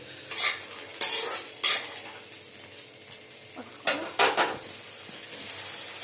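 Boiled chickpeas stirred in a little oil with puffed rice for jhal muri, a soft frying hiss under several quick scraping and clinking spoon strokes against the pan, spaced irregularly and heard close without talk.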